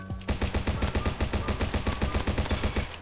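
Mini AK style machine pistol fires in a video game, a rapid sustained automatic burst of evenly spaced loud shots with ringing tails, close and continuous from start to finish.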